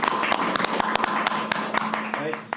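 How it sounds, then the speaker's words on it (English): A small audience at a city council meeting gives sparse, scattered applause, individual claps sounding as sharp separate taps under a speaker's ongoing voice. "Give him a round of applause"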